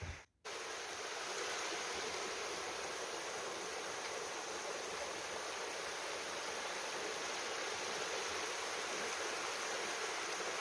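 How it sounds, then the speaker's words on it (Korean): A mountain stream on Moaksan in North Jeolla, Korea, rushes steadily and close by, a constant broadband water roar with no voices, after a brief dip at the very start. "계속 물소리를 들으면서 올라가고 있습니다"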